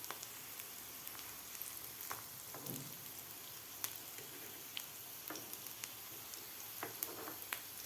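Pea and spinach veg cutlets (hara bhara kabab) fry in a pan on a medium flame, giving a steady, soft sizzle with scattered small pops and crackles throughout.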